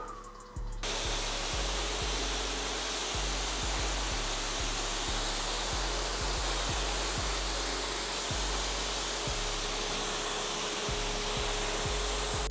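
A pressure washer lance blasts plain water onto a ceramic-coated car, with a continuous loud hissing spray that starts abruptly after a brief moment and runs steadily and close throughout.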